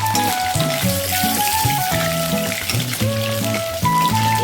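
Crispy chicken roast frying in a pan of hot oil, a steady close sizzle with spitting splatters, layered under background music with a melodic line.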